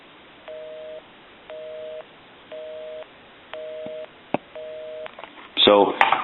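A Western Electric Trimline telephone line gives a steady on-off busy signal, five even beeps about half a second apart, followed by a sharp click and a burst of handset rustling at the end.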